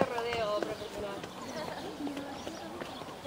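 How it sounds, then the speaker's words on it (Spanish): A rodeo mare's hooves clip-clop in an irregular rhythm, fairly close, while people talk over the steps and a faint bird call sounds in the background. "Yegua, caballo de rodeo"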